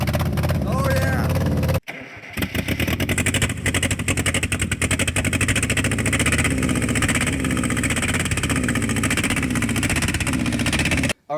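A 1984 Mazda truck's engine, left sitting for ten years, cranks, catches and then runs roughly and loud up close, with voices shouting over it.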